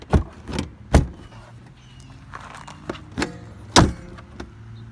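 Car hood being pushed down shut, heard as several sharp metallic thumps and clunks spread unevenly across the moment, close by, with quieter handling noise between them.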